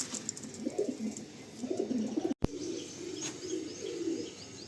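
Pigeons of the high-flying Fulsira line of Andhra pigeons coo steadily at close range in a loft, low throaty phrases repeating in overlapping bursts, with faint chirps above and one brief sharp knock midway.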